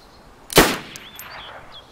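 A single sharp, loud sniper rifle shot in the video game DayZ cracks out, followed by a short ringing tail and a few faint clinks.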